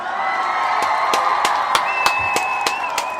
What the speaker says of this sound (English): Give Ujima a round of applause,